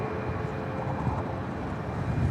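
An airliner arriving at Dallas Love Field, a steady broad jet roar with a faint whine, moderately loud and fairly distant, holding even throughout with no talk.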